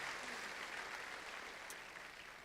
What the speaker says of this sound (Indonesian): Kita harus tepuk tangan untuk ini.